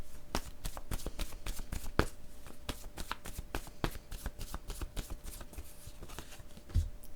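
A deck of cards shuffled for a card reading, a close, steady run of rapid riffling flicks that continues throughout at an even, fairly loud level, with one heavier knock near the end.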